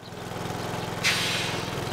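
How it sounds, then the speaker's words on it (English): A cartoon car's jet engine in the cartoon Kung Fu Masters of the Zodiac runs with a steady, rattling mechanical drone, then a bright burst of airy roar cuts in about halfway and holds to the end. "Wow, a jet engine? That's exciting."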